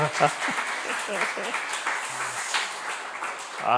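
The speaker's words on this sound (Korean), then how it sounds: "우리 한번 박수 한번 쳐주십시다." A church congregation at a Korean Sunday service applauds, a dense wash of clapping from many hands filling the room, with faint voices mixed in.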